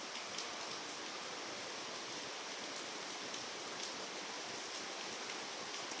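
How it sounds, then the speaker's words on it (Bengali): Light rain falls as a soft, even hiss that holds steady throughout, close and continuous with no voices or other sounds. "একটু বৃষ্টি হচ্ছে, বৃষ্টির মধ্যে ভয়েস ওভার করছি"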